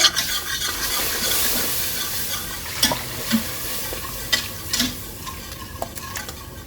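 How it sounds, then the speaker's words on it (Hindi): Maida flour being roasted and stirred in a pan, a steady dry sizzling hiss with occasional scraping taps of a utensil, close and moderately loud, no voices. "मैदे की अच्छे से कर लें भुनाई"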